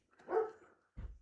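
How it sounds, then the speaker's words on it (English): A single muffled dog bark sounds faintly at a distance in a quiet room, followed by a brief low thump. "And yes, that is a dog barking."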